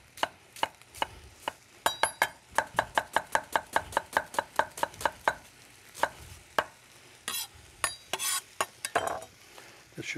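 A knife chops onions on a board in quick, regular, sharp strokes, then slows to sparser, uneven cuts, with a faint kitchen sizzle in the background and no talking.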